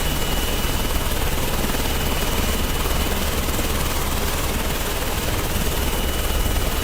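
Helicopters in the video game Carrier Command 2 fly overhead with a dense, constant rotor thrum and whine, steady and loud throughout with no voices.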